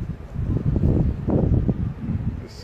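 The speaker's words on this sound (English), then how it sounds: "It's really windy here." Gusty wind buffets the microphone outdoors in low, rolling surges that swell and fade over a few seconds, loud and close with no talk.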